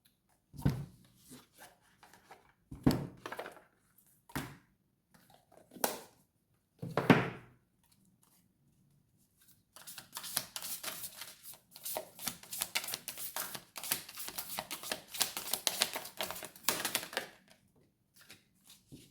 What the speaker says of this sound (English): Let's pull a couple of cards for us.